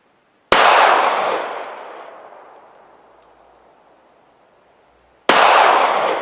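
Two loud, sharp gunshots from a Ruger LCP Max pistol, fired about five seconds apart, each followed by a long, fading echo.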